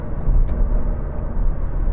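A 2014 Ford Fiesta 1.5 TDCi diesel cruising at 70 mph in fifth gear around 2,300 rpm, giving a steady low engine and road drone with no talk.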